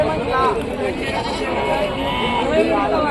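Goats bleat repeatedly amid a bustling rural livestock market at Rajarampalli, their wavering calls mixed with loud nearby talk and crowd chatter.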